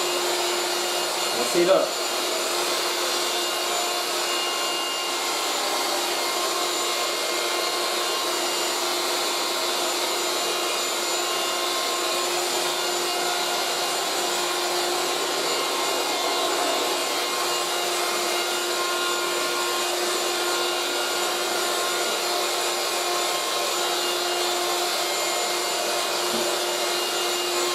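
A 1980s Moulinex Aspirateur No1 handheld vacuum cleaner fitted with its upholstery tool, running steadily as a close, continuous whine for the whole stretch, with a brief bump near the start and a few words spoken over it.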